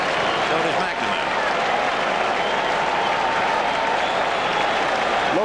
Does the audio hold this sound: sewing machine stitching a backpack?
no